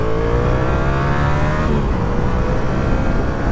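Yamaha MT motorcycle accelerating hard onto a road, its engine revving loudly and close with rising whine through gears, the pitch climbing steadily then dropping at a shift before climbing again.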